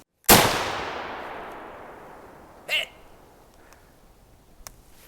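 A single loud rifle shot at an outdoor range cracks sharply close by and then fades in a long rolling echo, followed by a few faint clicks and handling sounds.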